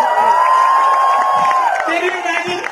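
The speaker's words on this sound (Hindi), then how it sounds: "एक बार जोरदार तालियां।" A loud crowd at a Social Nation event performance cheers, with a long piercing whistle and whoops rising over the mixed shouting of the audience.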